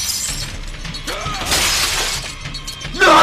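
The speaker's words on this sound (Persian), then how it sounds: "لعنتی شیشه ماشین من شکستی" Car window glass shatters loudly, a sharp crash with scattered tinkling fragments, set against a tense background mix and a burst of noise at the end.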